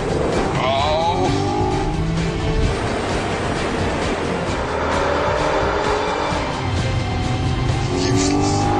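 A BMW Z4 3.0 or Audi TT Mk2 3.2 accelerating hard on a dry track, a loud continuous engine roar with rising revs and some tyre noise, heard close throughout with no speech.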